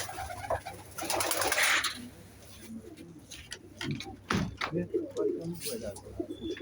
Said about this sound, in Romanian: la porumbeii care i-ați crescut o viață.